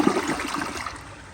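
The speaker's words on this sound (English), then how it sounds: "Overall, I actually kind of like the sound of the flush." A 2014 AquaSource Henshaw toilet flushes, with a brief burst of rushing, gurgling water that quickly fades into a softer trickle.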